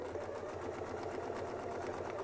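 A sewing machine runs continuously while stitching a seam on quilting work, a steady rapid mechanical hum and rattle heard up close without pauses.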